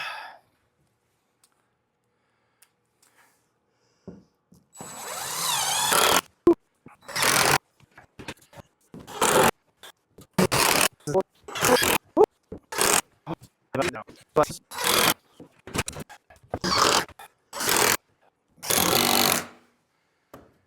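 A power drill whirs into wooden soffit framing in repeated short bursts, starting and stopping irregularly, close by, with quiet pauses between each run.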